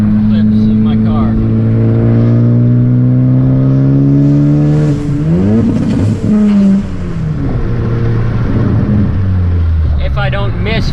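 Car engine revving hard and accelerating up through the gears, long rising tones that drop at each shift, loud and close, with a brief lull near the end before more engine noise.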